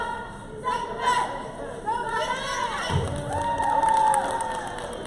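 At a women's basketball game, cheerleaders shout a chant while a crowd cheers back, with bursts of voices, a thud and general arena chatter mixing in a loud, lively wash.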